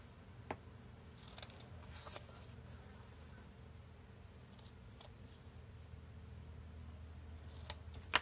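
Scissors snip the corners of a paper flap at an angle during a scrapbook album build, a few faint, quick cuts spread across a quiet room with low background hum.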